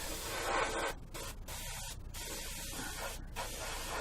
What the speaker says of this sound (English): nice having a new airbrush and trying it out